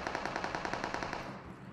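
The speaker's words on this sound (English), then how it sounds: "They're just shooting up there." Rapid automatic gunfire in the mobile battle royale game PUBG Mobile, a fast continuous burst of shots that rattles steadily for over a second before cutting off.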